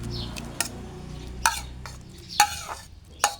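Bamboo shoot curry with white mushrooms stirred in a pot: a few sharp scraping and clinking utensil strokes, irregular and close, over a faint low simmer, no talking.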